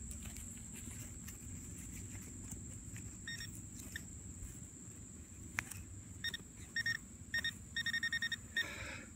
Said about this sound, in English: let's just swing it with the detector real quick